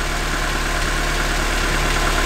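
A 1995 Opel Astra F with the X16SZ engine idles on its cold-start automatic, with a suspected coolant air bubble, giving a steady, close, continuous mechanical hum and throb with no voices.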